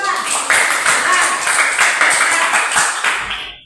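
Applause for a student in a classroom, a dense spread of many hands clapping together, loud and steady for a few seconds before tapering off.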